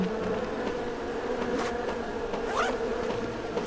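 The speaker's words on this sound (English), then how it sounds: "The hives are very noisy." Bee hives buzzing in the survival game No One Survived, a dense continuous insect drone close by and fairly loud, with a few brief rising whines of individual bees passing near.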